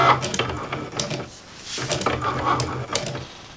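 A Cricut Maker moving its pen to write on a blank precut tag, heard as close, busy mechanical whirring with rapid clicks and taps in short bursts.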